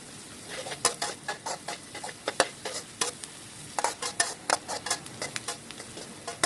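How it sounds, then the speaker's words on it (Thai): Minced garlic and chopped chili frying in a couple of spoonfuls of oil for a Thai morning-glory and prawn glass-noodle stir-fry, with a soft sizzle under repeated quick scraping stirs of a spatula. "จากนั้นก็ใส่กระเทียมสับแล้วก็พริกสับลงไป ต่อไปค่ะเราก็ จะเจียวค่ะเจียวหรือว่าจะผัดนะคะให้ทั้งสองอย่างนี้ส่งกลิ่นหอมขึ้นมาค่ะ"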